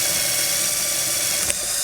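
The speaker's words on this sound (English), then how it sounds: "what I'm going to do is I'm going to take the drill" Power drill working on a vacuum cleaner motor assembly, a steady close high-pitched whir with a brief click near the end.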